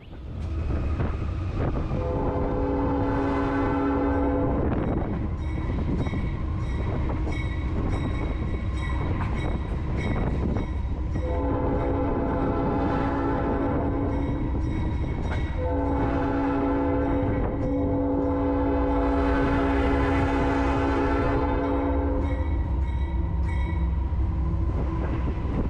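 A train on the Nashville & Eastern Railroad blasts its multi-tone horn in several long and short sustained chords, loud and fairly close over the low rumble of the moving locomotive.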